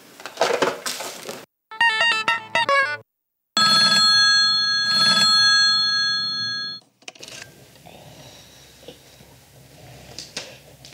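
Old telephone bell rings in bursts with short gaps, then a long sustained electronic ring, loud and close, in a jazz puppet theater show; faint background sounds follow.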